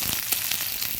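Chopped onion hits hot oil in a pan for a mixed dal, making a loud, dense crackling sizzle that fills the short moment on its own.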